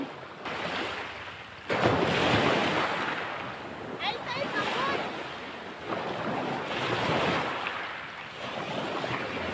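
Ocean waves roll in at high tide, several broad washes of surf swelling and receding close by, mixed with gusty wind noise on the microphone.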